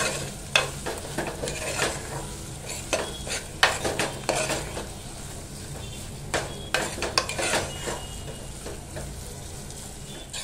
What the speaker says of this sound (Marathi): आता यात आपण ना तीळ टाकून घेऊया, ते पण असे ना परतून घेऊया।